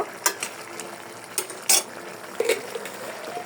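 Dal (a Bengali lentil dish with jackfruit and chickpeas) being stirred and sautéed in a pan in a village kitchen: intermittent scraping clinks of a utensil against the pan over a soft, steady sizzle, with no talking.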